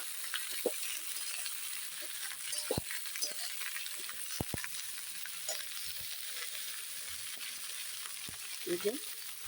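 Green chillies fry with onion stalks in a pan, giving a close, steady sizzling hiss broken by a few sharp pops and stirring clicks, with no talking.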